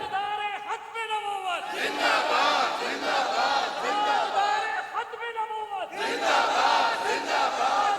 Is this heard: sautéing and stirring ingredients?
no